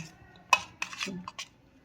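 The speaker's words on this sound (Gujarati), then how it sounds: "એક વખત ચમચાથી આવી રીતે હલાવી લેવાનું છે, બંને મિશ્રણમાં આવી રીતે આપણે હલાવી લેશું" Spoon stirring a thick homemade vanilla ice cream mixture in a bowl, several quick clinks and scrapes close by, fairly faint, without talk.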